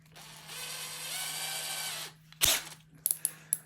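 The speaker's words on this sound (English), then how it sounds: "I'm going to drill it with a 1/8 inch drill bit." A power drill runs with a 1/8 inch bit for about a second and a half on a Team Associated SC6.2 RC truck part, a steady whine, followed by a few sharp clicks and taps close by.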